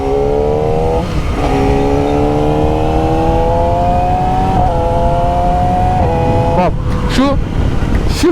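A Yamaha R6 sport motorcycle engine revs hard and climbs in pitch, easing off and surging again several times, loud and close, with brief gear-change dips.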